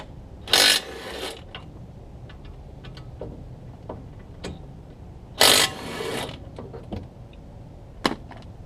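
Ratchet wrench turned through a universal joint while removing brake caliper bolts on a Tesla Model 3 AWD, two loud bursts of rapid clicking separated by scattered lighter ticks and taps, close by with no talking.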